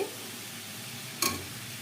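Radish greens being stirred as they fry in a pan, a soft steady sizzle with one brief, sharp scrape of the stirring utensil partway through.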